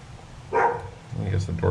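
Dogs barking indoors in a home while an Amcrest AD110 video doorbell is being installed: two short, fairly loud bursts of barking, with a voice around them.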